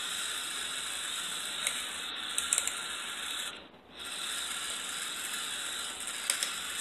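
Small metal clicks and ratcheting ticks come from a clock mechanism on a DIY gold mirror clock as it is turned and tightened, close and faint over a steady hiss, with a brief pause midway.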